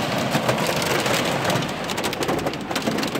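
Heavy rain pours down in a dense, unbroken roar during a windy storm with hail, drops hammering hard on surfaces close by with no letup.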